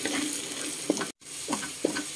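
Browned ground pork and an added egg are stirred in a sizzling pan, with a constant frying hiss and a few scraping spatula strokes around a brief dropout, close and without talk.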